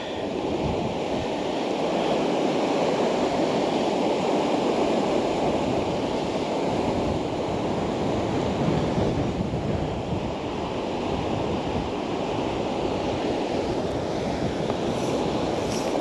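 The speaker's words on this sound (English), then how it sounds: "It's quite strong, the wind here." Strong wind by the River Doon in Scotland, a steady loud roar of gusting air buffeting the microphone across the whole stretch, blending with rushing water and no voices.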